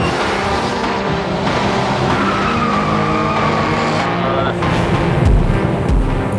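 A car driven hard at a large rally meet in Japan skids with sustained tire squeal over a steady engine drone, ending in a few louder thumps.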